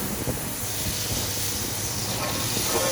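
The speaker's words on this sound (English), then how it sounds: "we're going to let this sear for a second" Steaks searing in a hot pan coated with cooking fat give a steady, loud, close hiss and sizzle that runs unbroken throughout.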